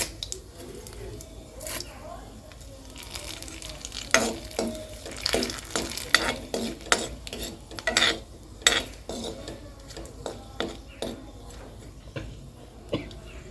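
Chopped dried red chilli and a bay leaf frying in hot oil with cumin, a soft steady sizzle under clattering strikes of a spatula against a pan, close up, with someone talking over it.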